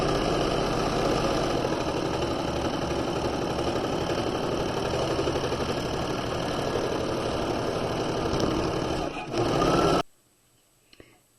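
A sewing machine runs steadily for about nine seconds while stitching the shoulder seams of a quarter-zip jacket. Its fast mechanical whir is close and continuous, then stops abruptly into near silence.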